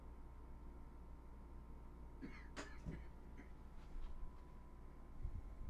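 A single short cough rises out of a quiet room hum at a paintball tournament, followed by faint rustling.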